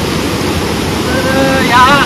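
Flowing water rushes beside a riverside campsite on a rocky bank, a loud, constant close roar mixed with wind, while a voice talks faintly over it toward the end.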